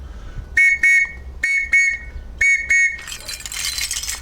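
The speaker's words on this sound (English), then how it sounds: "The last one from Great Britain is called the scout whistle." A British scout whistle gives three pairs of shrill, trilling blasts, each pair quick and loud, ending in breathy noise after the last pair.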